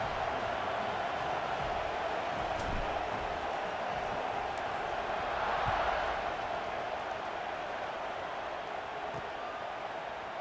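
Steady stadium crowd roar at a night game in the College Football 26 video game, Northwestern versus USC, a dense unbroken wash of cheering that swells briefly near the middle and holds at a constant level throughout.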